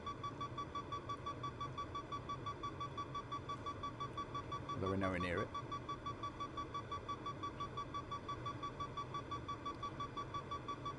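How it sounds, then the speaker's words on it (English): A glider variometer in Microsoft Flight Simulator 2024 gives a steady train of short electronic beeps at one pitch over a soft wind-like cockpit hum, with a voice talking briefly partway through. "The beeping noise you can hear is this Vario."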